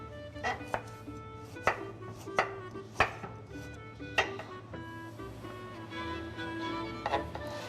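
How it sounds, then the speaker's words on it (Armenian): A knife chops potatoes on a board with sharp, irregular knocks, about nine over several seconds. Soft scraping and a low steady hum sit underneath, with no speech. "իսկ դու կարտոֆիլը կտրատել։"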